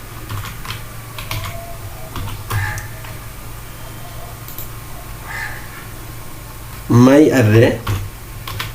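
Clicky computer keyboard typing as code for a sorted-array program is entered, with scattered keystrokes through the passage and a voice speaking over it.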